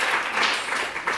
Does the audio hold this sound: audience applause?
yes